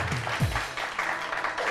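Studio audience applauding on a television cooking show, steady clapping throughout with a brief voice underneath at the start.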